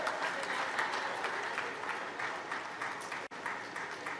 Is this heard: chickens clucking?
no